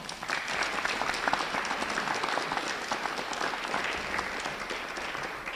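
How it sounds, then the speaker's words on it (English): Audience applause for steel pan performers at a holiday luncheon, a dense, steady round of clapping that holds evenly loud throughout with no voices over it. "Let's give them another round of applause."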